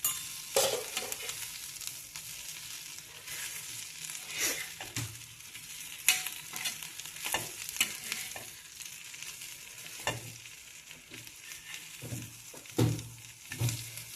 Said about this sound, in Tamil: கடைசியாக நம்ம கருவேப்பிலை போட்டுட்டு இது திருப்பி போட்டுடலாம்.